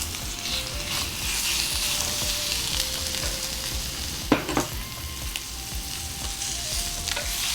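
Thin slices of chicken fry in a pan with a constant close sizzle, a brief utensil clatter midway, and faint music in the background.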